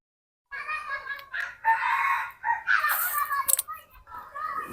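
Chickens in a vegetable field carrot plot give loud, close fowl calls in several uneven bursts after a brief silence, sounding partly like crowing.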